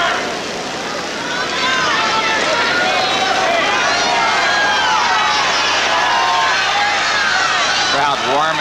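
A dense, continuous crowd roar and chatter fills the stands at the 1978 US Open tennis final between Borg and Connors, with whistles rising over the steady noise.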